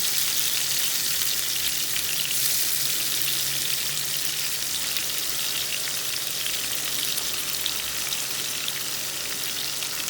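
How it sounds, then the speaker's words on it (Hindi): Chicken frying in a pan, a continuous dense sizzle at even loudness throughout, close and unbroken with no voices. "इसे अच्छी तरह से फ्राई करना।"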